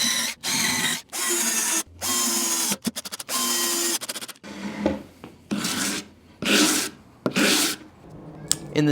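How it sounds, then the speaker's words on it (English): Sanding block knocking sharp edges off plywood in a run of short, rhythmic rasping strokes, some in quick bursts, close and loud with no talk. "that was one of the few times you've seen me using my sanding block to knock off sharp edges"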